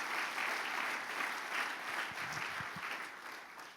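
A church congregation applauds together during a worship service, producing sustained, dense clapping that stays steady for several seconds with no speech over it.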